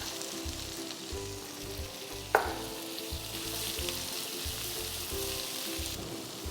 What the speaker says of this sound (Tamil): ஒரு வெங்காயத்தை பொடியாக வெட்டி வச்சுருக்கோம், இந்த ஸ்டேஜில் ஆட் பண்ணிக்கோங்க.